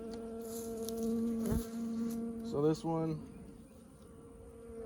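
Honey bees buzz at an open hive in a bee yard, a steady droning hum that swells and shifts as the insects move nearby. Someone speaks briefly over the buzzing.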